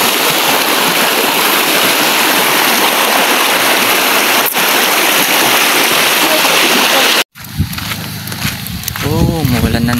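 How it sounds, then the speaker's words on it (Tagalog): Steady rain falls outdoors, a loud continuous hiss like rushing water for about seven seconds, then cuts off abruptly, giving way to quieter sounds and a voice talking. "Oh, umuulan na naman."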